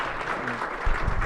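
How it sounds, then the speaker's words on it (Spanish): A short burst of dense audience applause fills the room for the translator Maxi Contenti at a public talk, steady and fairly loud throughout. "Un aplauso también para Maxi."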